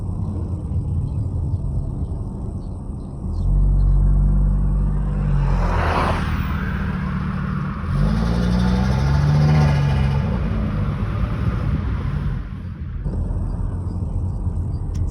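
Apple-green Audi RS3 passing at an enduro race event, a loud low engine rumble that swells twice as the car goes by, with revving, over steady crowd and traffic noise.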